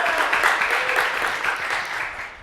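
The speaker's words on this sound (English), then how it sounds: "Round of applause" Steady applause from an audience at a Duo tech talk, a dense even wash of many hands clapping that fades slightly toward the end, with no voices over it.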